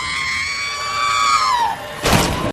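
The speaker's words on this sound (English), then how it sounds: "soundboard every time I join a Discord is the R2-D2 scream." The R2-D2 droid scream effect from Star Wars plays loud and close: a high, wavering electronic wail sliding downward over about two seconds, ending in a short noisy burst and abrupt cut.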